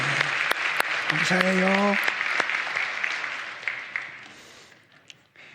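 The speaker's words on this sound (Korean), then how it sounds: "우리 한번 환영의 박수 한번 할까요?" A church congregation claps in welcome for a newcomer, a dense burst of applause filling the room that tapers off gradually, with a man's brief spoken thanks over it.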